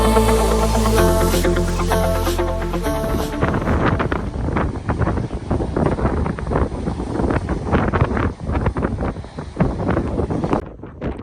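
Strong wind at Black Sand Beach in Iceland buffets the microphone continuously with a rough, gusting roar; a musical passage plays at the start before the wind takes over.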